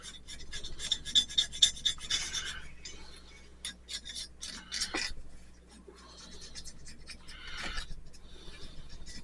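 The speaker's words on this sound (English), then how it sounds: "we're just going to scrape this as clean as we can" A metal scraper rasps in short, uneven strokes against a Toro snowblower engine part, scratchy scrapes coming in bursts with pauses between, close and fairly quiet.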